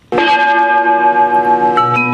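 A recorded imitation of a church bell tolls from a town's main church, one loud ringing strike with a long sustained metallic hum that wavers slowly before a second strike begins.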